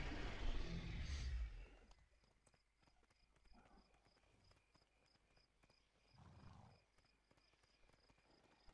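Horse mount hoofbeats in the video game World of Warcraft, a steady clip-clop rhythm of hooves at moderate distance, with a whooshing sound at the start and a brief swell of noise later.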